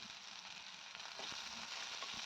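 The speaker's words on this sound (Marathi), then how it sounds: "सुरुवातीला आपल्याला घेतलेल्या भाज्या फ्राय करून घ्यायच्या आहेत" Vegetables sizzling in a pan, a steady, faint hiss with small crackles and an occasional stir, no voices.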